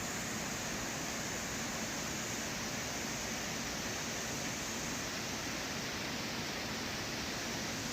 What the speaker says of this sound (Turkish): Şelalenin güzel sesini dinliyoruz